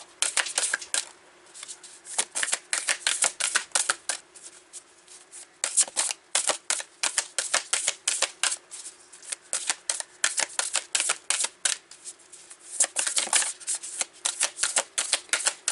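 Close-up large tarot cards being shuffled over and over, with bursts of rapid riffling clicks and short pauses between them, and no talking.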